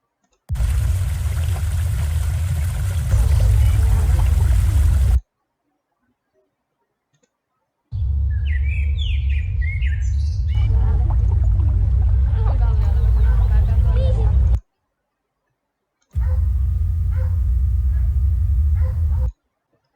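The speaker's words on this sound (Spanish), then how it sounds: "tenemos aquí no solamente la cascada, pero también tenemos los pajaritos, las personas en el fondo nadando y el perro ladrando" A river scene with a waterfall's steady rush, birds, people swimming in the distance and a dog barking, heard in three loud continuous stretches separated by silent gaps.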